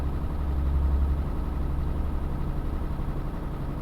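A truck engine in Euro Truck Simulator 2, driving through Scandinavia, holding a steady low rumble throughout at moderate loudness with no talk over it.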